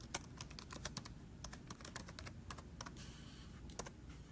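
Someone types on a computer keyboard with only one hand, producing quiet, irregular key clicks in short bursts and single taps against a low background hum.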